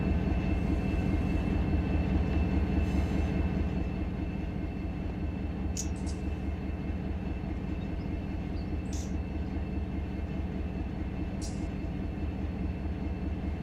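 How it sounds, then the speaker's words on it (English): A locomotive in the Run 8 train simulator video game rumbles with a steady, throbbing diesel drone and rhythmic pulsing, louder at first and then settling, with a few brief metallic squeals or clanks on top. "It's definitely got all the right train noises and locomotive noises."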